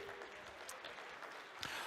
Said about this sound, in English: Give yourselves a big round of applause tonight